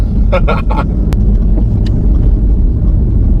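A 2016 Audi S3 quattro pulls hard around a roundabout, its engine a loud, close low rumble filling the cabin throughout, with a voice speaking briefly over it near the start.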